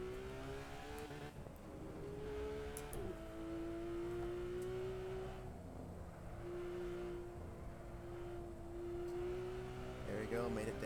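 A race car engine in Assetto Corsa accelerates out of a corner, its tone rising steadily through upshifts into a long sustained whine, with a person speaking over the engine.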